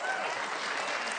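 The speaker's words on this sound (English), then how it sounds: "That's why they're clapping" Audience at a televised political town hall claps steadily, a dense, even wash of applause sustained throughout without a break.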